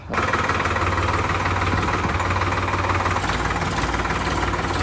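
A parked tractor's engine idles steadily close by, a continuous low rumbling drone with a faint knocking pulse, holding an even level for the whole stretch with no talk over it.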